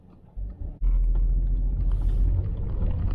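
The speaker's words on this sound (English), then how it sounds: "the little 3-cylinders humming away okay" Steady low hum of a VW Polo 2010's 1.2-litre three-cylinder engine with 150,000 miles, rising in after a short lull and holding on continuously, close and fairly loud with no talk.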